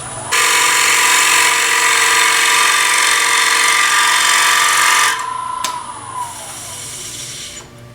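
A bowl gouge cuts into a wooden bowl spinning on a lathe, giving a loud, steady, high hiss of shaving that runs unbroken for about five seconds before tapering off into the quieter hum of the machine.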